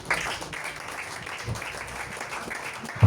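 Church congregation applause during a service, a modest, steady spread of clapping from many hands lasting a few seconds, ending in a louder thump.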